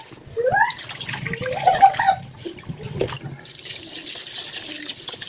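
Water streams from a filtered kitchen tap while chicken adobo is being cooked, a continuous close rushing with a short voice-like sound near the start.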